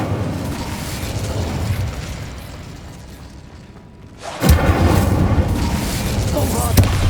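Incendio, a fire spell in Hogwarts Legacy, fires with a fizzing whoosh, then erupts in a loud booming burst of flame midway. A deep rumble continues afterward with sharp crackles near the end.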